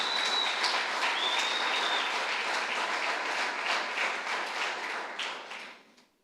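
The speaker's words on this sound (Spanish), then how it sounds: "denle un aplauso al Señor" A church congregation claps in a sustained round of applause at a sermon, dense and moderately loud, thinning out and fading to quiet near the end.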